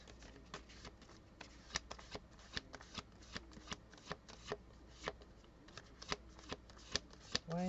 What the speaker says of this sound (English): Let me get another card.